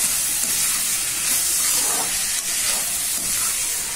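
Cut tomatoes frying with sautéed onions in a pan for a home-cooked fish curry, a steady close sizzle and hiss with faint stirring scrapes and no voices.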